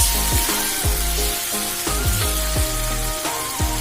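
Rawon spice paste sizzles loudly in a hot pan while a utensil scrapes and stirs it in repeated, regular strokes, close and steady.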